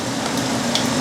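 Marinated chicken pieces sizzle and fry in hot oil in a pan for chicken karahi, a steady close crackling hiss with no voices.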